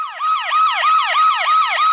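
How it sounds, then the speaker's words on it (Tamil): An emergency siren wails loud and close, a fast repeating up-and-down yelp that sweeps about four times a second with rich harmonics, heard alone without any talking. "சைலன்ஸா பேசுறதுக்கே சைரன் அலருது பாரு கேக்குதா"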